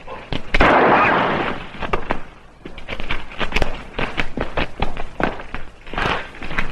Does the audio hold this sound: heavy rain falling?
no